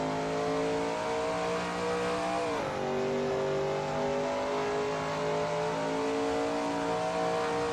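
Shelby Mustang GT350R engine in a racing sim at Barbagallo, a steady loud drone with harmonic tones, pitch dropping briefly near a shift, then holding and rising again, alone without talk.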